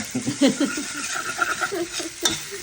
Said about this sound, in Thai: เดี๋ยวเราผัดไปเรื่อยๆให้มันหอมก่อนนะคะ